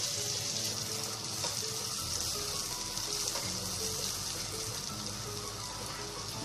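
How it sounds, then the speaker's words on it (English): Malpua batter frying in very hot ghee gives a steady, close, continuous sizzle and crackle that holds throughout without any talking. "make sure that your ghee is very hot before you pour in another malpua."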